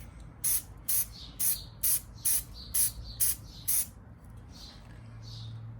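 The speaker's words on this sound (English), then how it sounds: "just light coat dust to get some paint onto the product that you're painting" Eight short bursts of spray paint laid down as a light dusting coat on a sprocket, each hiss about a third of a second long in an even rhythm, close and crisp over a low background hum.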